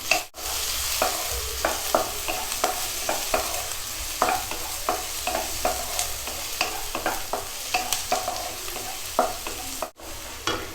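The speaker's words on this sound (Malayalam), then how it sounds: "ലോ ഫ്ലെയിമിലിട്ടിട്ട് പതുക്കെ ഇത് വാട്ടിയെടുക്കണം." Green chili and sliced onion being stirred and sautéed on low flame in a pan for kothu chappathi, a steady soft sizzle with repeated scraping stirs throughout.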